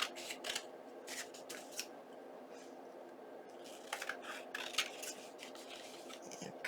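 Scissors cut paper for a junk journal in a rapid run of close, crisp snips, then a quieter pause, then another burst of snipping.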